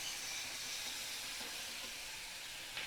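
Chopped tomato sizzles in a frying pan with a soft, steady hiss that stays constant and fairly faint throughout, with no talking.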